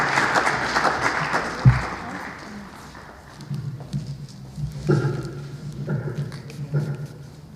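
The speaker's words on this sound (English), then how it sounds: "A round of applause." Applause from a school audience during a Nigeria Police visit greets an officer called forward, starting as a busy wash of clapping that fades after about three seconds, followed by scattered thumps and a voice speaking.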